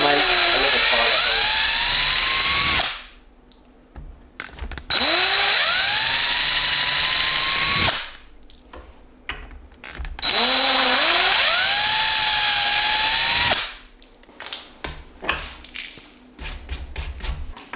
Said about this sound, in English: And make a little pilot hole.